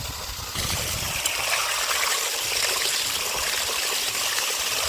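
Water gushes and splashes continuously from a tubewell pipe on a farm, a steady broadband rushing that stays loud throughout.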